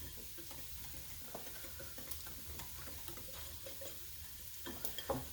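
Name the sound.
sausage and onions sizzling in a skillet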